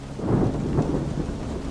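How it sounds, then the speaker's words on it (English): A desert thunderstorm rumbles with deep rolling thunder over steady heavy rain, with wind, moderately loud and continuous without any voices. "Just thunder and wind and that terrible desert silence underneath it all."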